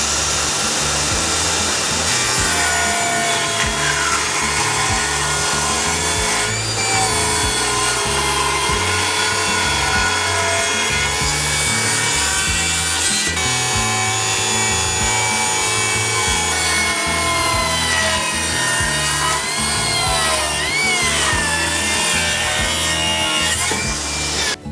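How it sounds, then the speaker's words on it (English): A table saw rips cherry and walnut boards for an end grain cutting board, giving a steady, loud, continuous whine with shifting pitch and cutting noise throughout, with no talk. "now I can go ahead and take those to the table saw and cut those into the thickness that I desire"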